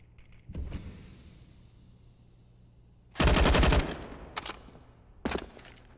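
Machine gun fire in Counter-Strike on the Mirage map: a faint short burst, then a loud sustained volley about midway, followed by two sharper, shorter bursts, with quiet game ambience between and no talk.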